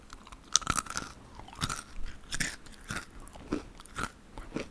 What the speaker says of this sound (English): this is a bit difficult to eat muruku